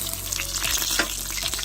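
Chicken wing flats fry in hot oil for teriyaki wings, giving a steady, loud, crackling sizzle with small popping bursts throughout.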